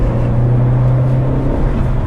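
Audi S3 fitted with a full Milltek resonated cat-back exhaust, a loud, steady low drone from engine and exhaust that holds level across a short stretch.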